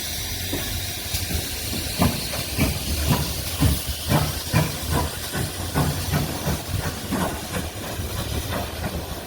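A steam tank locomotive on the Paignton and Dartmouth Steam Railway at Kingswear Station hisses loudly and continuously, with a slow, regular beat of exhaust chuffs running underneath as it moves off.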